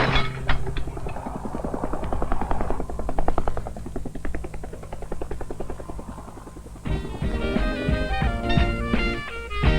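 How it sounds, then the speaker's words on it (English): Helicopter rotor beating in rapid, chopping pulses at a steady level for most of the stretch, then tonal music comes in over it near the end; no one speaks. "The helicopter is dropping me."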